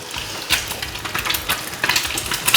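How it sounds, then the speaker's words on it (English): An egg fries in a pan for a Thai basil stir-fry, spitting and spattering with a steady crackling sizzle and sharper pops, close and fairly loud, with no voices. "Now it's going to spit and spatter and whatnot."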